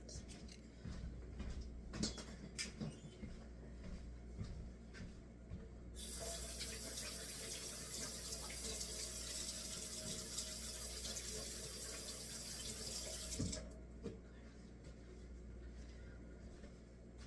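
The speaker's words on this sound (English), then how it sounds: "Let's get rid of these eggs and then go wash my hands" Kitchen tap water running steadily for several seconds while hands are washed during banana bread baking, a broad hiss that starts abruptly and stops, with faint handling clatter before and after.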